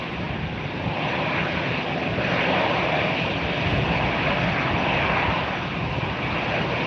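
Airliner taxiing at Tampa International Airport on a very windy day, producing a steady, loud broadband engine roar that holds constant throughout with gusty wind noise mixed in and no talk.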